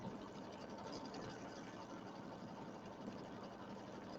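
A home embroidery machine stitching a spider-web quilting pattern on a Halloween mummy and flying geese quilt block, its steady low mechanical whir and rapid needle chatter running evenly and quietly throughout.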